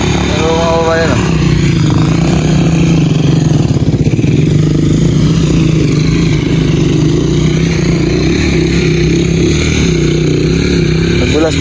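A motorcycle strains up a slippery mountain trail as its wheel slides in mud, the engine droning and revving loudly and close throughout while people talk over it.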